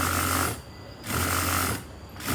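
A sewing machine stitching with elastic smocking thread runs in two bursts of steady, fast mechanical whirring and clicking, separated by a short pause, close and clear with no talk.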